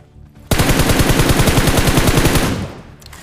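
A rapid burst of automatic gunfire in PUBG mobile, loud and close, with about two seconds of evenly spaced rounds firing alone before trailing off.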